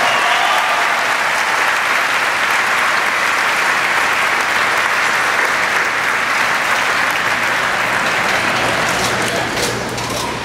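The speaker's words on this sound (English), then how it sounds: "Let's have a round of applause for all our scholarship winners." Sustained, loud applause from a large crowd fills a high school graduation ceremony for scholarship winners, steady dense clapping that carries on for about ten seconds before tapering slightly.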